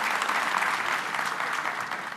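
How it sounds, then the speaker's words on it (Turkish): An audience applauds steadily in a hall, a dense, even patter of many hands clapping throughout, close and fairly loud with no voices standing out. "Alkışlarımızla acil şifalar dileyelim Sayın Deniz Baykal'a"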